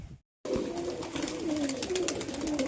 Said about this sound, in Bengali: তো নিচে কবুতর ছেড়ে দিই